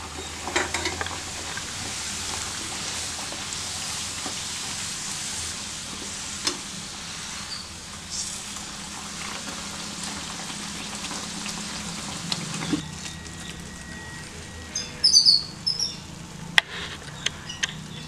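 Parotta frying in oil in a pan, a quiet steady sizzle with a few sharper crackles and pops toward the end, no voices.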